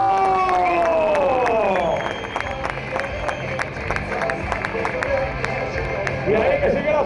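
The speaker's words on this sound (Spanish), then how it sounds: "¡Aplauso!" A large crowd applauding and cheering in an open bullring during a motor show, sustained clapping under a loud announcer's voice.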